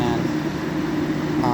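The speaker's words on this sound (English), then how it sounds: "And the sound of it running on high cool is also just as memorable." A 1962 General Electric Lo Thinline window air conditioner runs on high cool, a steady even fan-and-compressor hum with a low drone, constant throughout.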